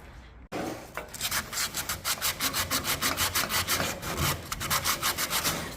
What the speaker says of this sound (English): let's start sanding this bit back